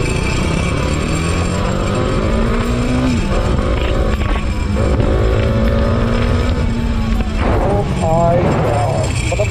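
A 2023 Bajaj Dominar 400cc motorcycle engine revs and accelerates loudly and close, its steady drone rising and falling in pitch throughout, with no one speaking over it.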